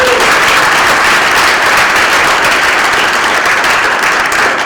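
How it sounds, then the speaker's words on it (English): Loud, close applause from a lecture audience, a dense wash of many hands clapping steadily throughout without a break. "please give Ben a round of applause."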